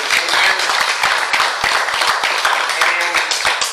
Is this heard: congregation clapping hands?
yes